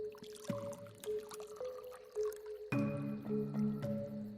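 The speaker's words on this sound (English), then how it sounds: "She poured a glass of tea." Tea poured from a pitcher into a glass, faint trickling and dripping with a few soft taps, then a fuller, steadier liquid stream rising in pitch as the glass fills.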